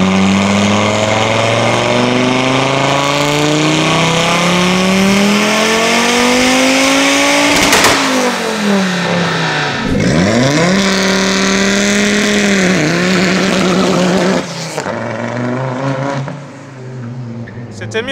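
An Audi 100 S4 hill-climb race car engine revs hard and holds high in an anti-lag test, its pitch rising and falling through several swells. One sharp pop sounds near the middle, the note drops toward the end, and nearby voices are heard.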